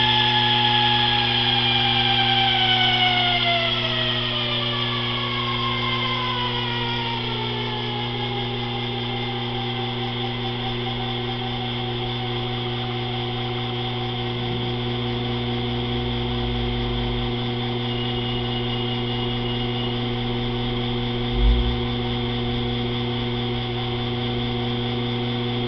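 A Sherline lathe turns at 400 RPM while a rotary broach cuts, giving a steady close mechanical whine with layered humming tones that slide downward early on. A single soft knock comes near the end, with no talking.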